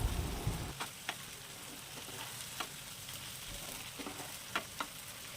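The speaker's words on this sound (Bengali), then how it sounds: "এই মশলাটা কিছুক্ষণ একটু ঢাকা দিয়ে ভাজবো।" Ground ginger, onion, garlic and chili paste fries quietly with chopped tomatoes for chicken, making a soft steady sizzle with occasional light taps and scrapes of a spoon.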